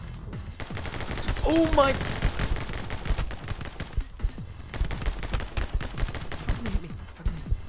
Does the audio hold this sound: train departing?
no